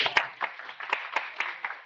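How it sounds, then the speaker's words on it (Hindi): Clapping from a small audience at a cloud technology meetup talk, a string of sharp, fairly regular hand claps, about nine distinct claps close together and moderately loud. "नाइस, हाथ ताली हो जाए भाई लोग के लिए।"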